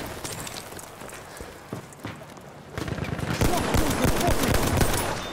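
Gunfire in a Battlefield 1 match on the Sinai Desert map, with a Mondragon rifle in use: scattered shots at first, then a denser, louder burst of rapid firing in the second half.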